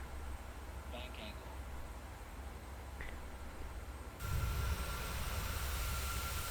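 A PMDG 737 coming in to land in a flight simulator game, with a steady jet engine drone that jumps to a louder, deeper rumble partway through.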